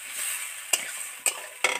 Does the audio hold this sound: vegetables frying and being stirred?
yes